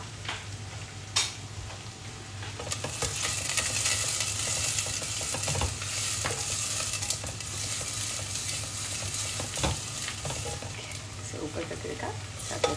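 Onions fry golden in a pan for dal: a steady close sizzle carries on throughout, with occasional scrapes and clinks from stirring and no voices.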